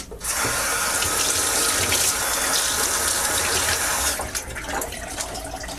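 Cold water gushes steadily from a hose into a home-brewing pot for an Irish stout, a loud continuous splashing stream that softens slightly near the end.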